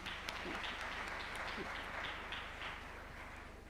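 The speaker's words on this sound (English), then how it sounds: "A big round of applause to their excellencies." An audience at an Africa Forward summit gives a round of applause, with steady clapping heard faintly from a distance, tapering slightly toward the end.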